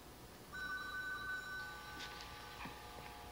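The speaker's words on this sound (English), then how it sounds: "Go answer the phone." A telephone rings from about half a second in, a steady electronic tone holding for the rest of the short clip at moderate, slightly distant loudness, with faint room noise around it.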